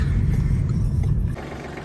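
A tractor being unloaded from a truck, its engine giving a loud, steady low rumble throughout that eases slightly in level toward the end, with no talk.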